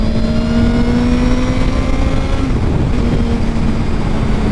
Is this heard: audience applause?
no